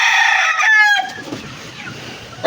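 A rooster crows loudly and close for about a second among a crowd of chickens, then the call breaks off into softer clucking and rustling.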